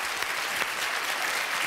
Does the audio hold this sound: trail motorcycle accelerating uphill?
no